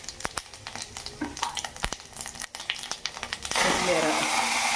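Chana dal, mustard seeds and cumin temper in hot oil: sharp clicks and light clatter at first, then a sudden loud, steady sizzle burst as the seeds hit the oil.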